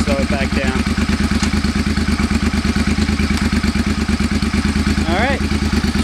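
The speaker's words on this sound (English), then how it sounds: "We're just going back down the gears, slow it back down." A 2005 Suzuki Boulevard C50 motorcycle engine pulses loud and close with a rapid thumping beat as the rider shifts back down the gears to slow, while a voice talks over it.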